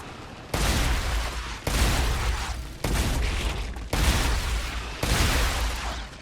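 Sustained loud gunfire in the sci-fi video game StarRupture, heard as five long, dense bursts of rapid shots close up, each broken off by a brief gap, with no voices.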